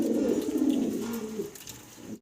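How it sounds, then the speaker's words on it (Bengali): A male Indian dauka pigeon, a fancy breed kept in a coop, gives low throaty cooing close up, a single rolling phrase fading out after about two seconds. "ডান পাশে মাদি আছে হাড়িতে, নর ডাকাডাকিতে ব্যস্ত আছে।"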